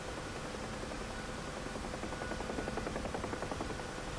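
Helicopter engine and rotor in the DCS flight simulator game, a steady loud turbine whine with a rhythmic rotor chop throughout, no talking.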